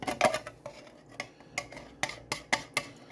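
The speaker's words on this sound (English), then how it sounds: "we're just going to go ahead and dump that whole half a can in, sauce and all" Clattering pot and utensil knocks as half a can of beans in sauce is dumped into a cooking pot, a series of sharp close clinks and scrapes spaced irregularly over a few seconds.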